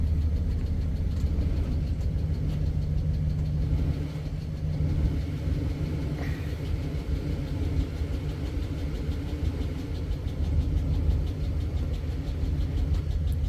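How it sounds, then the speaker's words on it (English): A van engine, just switched on, idles with a steady low rumbling hum that carries on evenly throughout, with no talking over it. "I turned the car on after."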